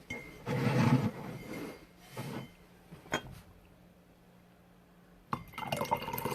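Rose tea is poured into a cup in a few short bursts, a near liquid splash and trickle with a faint clink of glass, separated by quiet pauses and ending in a louder pour.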